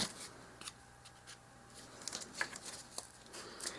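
Scissors cut scored paper down into miniature dollhouse book sizes, making a quick run of soft, crisp snips and rustles close up and fairly quiet, with no speech.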